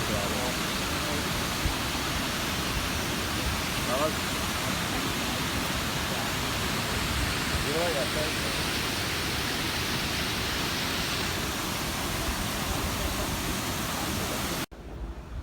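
Iguazu Falls in Argentina roars as a loud, steady wall of rushing water that continues without pause and then cuts off abruptly, while someone speaks briefly over it.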